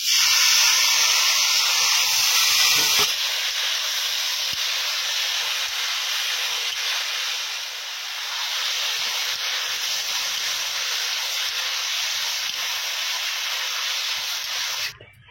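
Tomatoes dropped into hot oil with fried vegetables in a home kitchen pan, a loud sizzling hiss that flares at first, settles into a steady sustained sizzle, then cuts off at the end.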